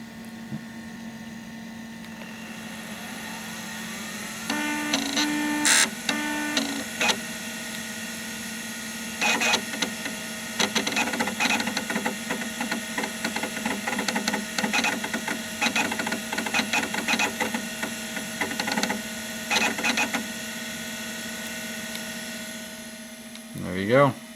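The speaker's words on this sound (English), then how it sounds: "We can at least record the sound of this mini scribe." A MiniScribe hard drive running just after boot-up gives a steady electronic whine and hum with bursts of rapid clicking and chattering seek noise, close and fairly faint.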